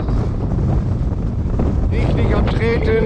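Strong headwind roars across the microphone while cycling the Ems and North Sea coast bike routes, a loud, steady buffeting rumble throughout, with someone talking over it.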